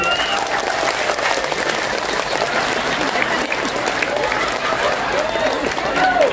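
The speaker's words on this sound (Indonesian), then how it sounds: "Tepuk tangan." A crowd at an Islamic religious gathering in Kendal claps steadily and loudly for over six seconds in a continuous, dense wash of applause.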